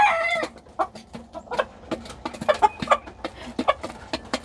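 Polish hens clucking in a coop on a cold morning, a series of short soft clucks and murmurs at an irregular rhythm, close by, with one hen's louder squawk at the start.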